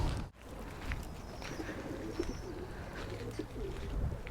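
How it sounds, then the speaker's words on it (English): Soft dove or pigeon cooing, low and muffled, repeating a few times inside a steam railway carriage under a steady rumbling background. "There's some doves or pigeons inside this carriage."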